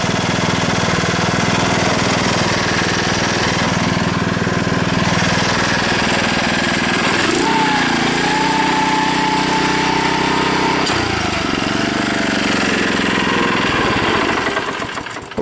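A Ryan Lawnaire IV 18-inch walk-behind core aerator with a Honda engine runs loud and close, a constant throbbing drone with thumping tines poking holes in the ground and a pitch shift midway as it is engaged.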